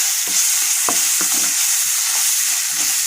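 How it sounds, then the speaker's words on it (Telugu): Chopped carom (ajwain) leaves frying in a pan on medium flame, a constant bright sizzle with a few sharp stirring scrapes and clicks, no talking. "ఒక టూ మినిట్స్ మీడియం ఫ్లేమ్ మీద ఫ్రై చేసుకోవాలి"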